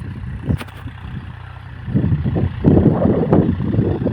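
Farm tractor working a field for ploughing, a low steady engine rumble close by that swells and surges in the latter half.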